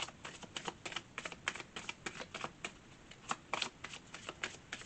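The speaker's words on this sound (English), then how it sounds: "I'm going to pull out one last card." Oracle deck cards being shuffled by hand for a tarot-style reading, a steady run of crisp riffling flutters and soft slaps repeating through the whole stretch, close and fairly quiet, with no talking.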